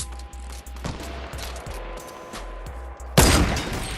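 Gunfire in Fortnite Battle Royale: rapid, repeated shots pop over a steady low game hum, with a louder burst of firing near the end.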